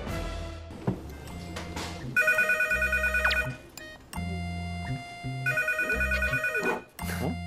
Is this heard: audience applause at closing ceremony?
no